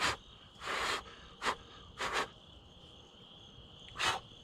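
Someone blows air in several short bursts across a freshly sculpted Devil Monkey face outdoors on a still day, close and breathy gusts separated by pauses, with a steady insect-like hum in the background.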